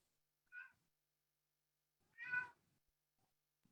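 A cat that is upset meows twice, a short meow followed by a longer, louder one, alone against near silence.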